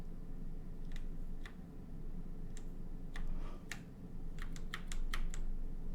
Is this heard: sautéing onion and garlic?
no